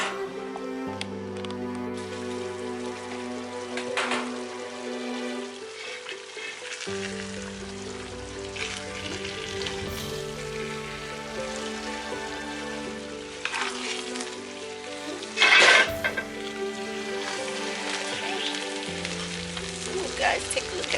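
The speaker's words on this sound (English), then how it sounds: "Let's check on the rice. Ooh, look at that, guys. The rice is cooking." Smoky party jollof rice cooks in a pot, giving a continuous close sizzle and crackle with light ticking, joined by steady low tonal hum and a brief louder clatter near the end.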